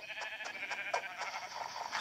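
Sheep in the video game Minecraft bleat in a quick run of short, wavering calls, steady and fairly loud with no talking.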